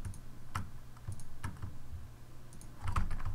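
Fast, irregular typing on a computer keyboard, a close run of soft clicks and taps with short pauses, no talking over it.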